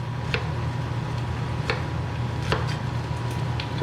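A knife chops onion on a cutting board while tacos al pastor are being made, giving a handful of sharp, irregularly spaced taps over a steady low background hum.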